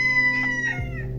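A farmyard rooster crows nearby, a loud, harmonic drawn-out call that tapers off, heard alone over a steady low background hum.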